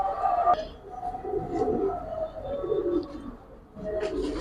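Giribaz pigeons coo in low, repeated warbling phrases at close range, with faint bird chatter and brief murmurs in the background.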